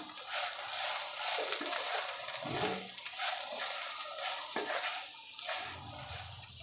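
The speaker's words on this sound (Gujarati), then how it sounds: "હવે એને સારી રીતે હલાવી લેશું।" Cooked masala stirred in a pan, soft scraping and thick sizzling with a few clinks of the spoon against the pan, close and quiet, without speech.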